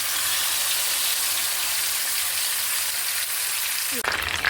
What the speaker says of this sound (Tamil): மீனை பொரிக்க போகிறேன்.